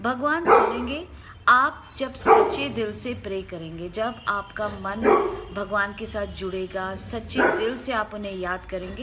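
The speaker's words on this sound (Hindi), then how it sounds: "ये जो भौंकने की आवाज़ आ रही है," Several dogs in a home bark and yip repeatedly in bursts, loud and close, underneath someone speaking steadily throughout.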